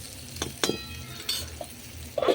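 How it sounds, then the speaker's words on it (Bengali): Eggplant frying in a pan on a clay stove gives a low sizzle under a few sharp stirring scrapes and light utensil clinks, close and brief, without talk. "দেখো বলো ভাজা ভাজা হয়ে এসছে দেখেন আর একটু ভাজতে আছে"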